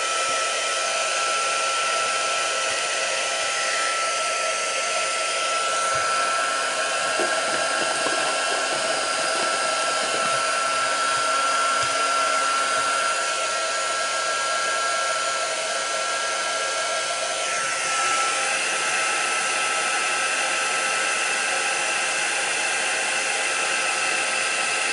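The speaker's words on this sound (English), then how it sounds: "Heat gun." A heat gun used for stamped card making blows a loud, steady, high-pitched whirring hiss that runs continuously and shifts pitch slightly partway through.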